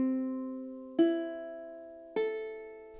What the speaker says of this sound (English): A tuned ukulele should sound something like this.